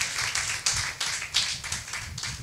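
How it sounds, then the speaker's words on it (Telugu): A church congregation claps in quick, even rhythmic bursts at a devotional sermon on fasting, several sharp claps close together at a steady pace. "చప్పట్లు కొట్టండి ఒకసారి"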